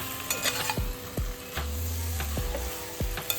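Noodles stirred and fried in a pan over a lowered gas flame, with continuous sizzling broken by several sharp metallic clinks and scrapes of the utensil against the pan, close and without talk.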